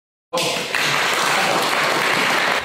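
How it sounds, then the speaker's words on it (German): Loud applause bursts in suddenly after a moment of silence and continues steadily from a sizable crowd. "Applaus"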